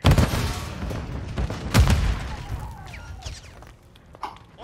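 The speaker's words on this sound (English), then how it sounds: "Throwing a stun grenade!" Explosive bangs in the video game Call of Duty are consistent with a thrown stun grenade: loud booming blasts with gunfire early on, easing to quieter scattered clatter and distant noises.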